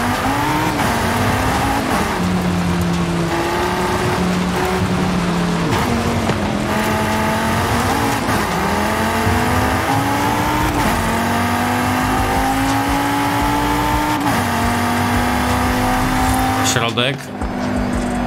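In a racing video game, a car with a stock engine of about 609 horsepower revs and shifts through gears, its pitch rising and falling repeatedly, loud and continuous while someone talks over it.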